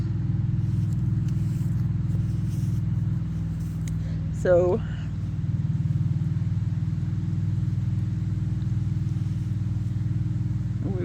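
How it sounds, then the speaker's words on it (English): Passing cars on a nearby road produce a loud, continuous low engine rumble, with a voice briefly speaking midway. "These fucking cars, man, they're so loud."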